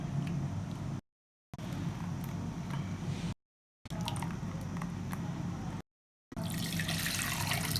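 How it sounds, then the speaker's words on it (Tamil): Water is poured into an aam panna drink, a steady splashing stream broken by three short silent gaps, close and moderately loud. "கொஞ்சம் ஜில்லுன்றதுக்காக இந்த ஜலம் விடுறேன் நான்."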